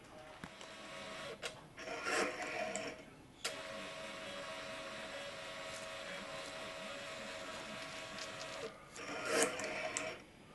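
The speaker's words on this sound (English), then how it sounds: "So I'll set that to print and it'll come out the printer." A small Brother label printer runs steadily while feeding out a sticker, a continuous mechanical whir with a brief snip of the automatic cutter near the end, close and alone with no talk.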